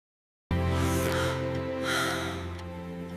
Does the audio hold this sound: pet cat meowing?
no